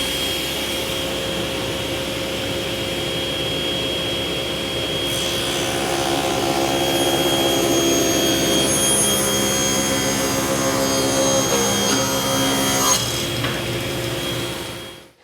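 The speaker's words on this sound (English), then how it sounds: "I'll go ahead and cut this bottom rail to its final 1-inch width" A power saw rips a wooden bottom rail for a bathroom vanity down to a 1-inch width, a loud steady whine with a whirring motor tone that rises slightly mid-cut as the blade bites the wood, then winds down at the end.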